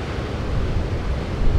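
Big ocean waves breaking on a reef with backwash at Pipeline, a loud, steady roar of surf and churning water with wind buffeting the microphone.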